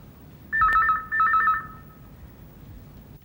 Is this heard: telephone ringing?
yes